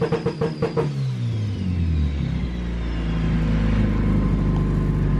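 A turbocharged Honda D16Z6 engine on two-step launch control: a few rapid, stuttering rev pulses, then a loud, close, sustained revving rumble that holds as the engine strains to build boost, with no speech.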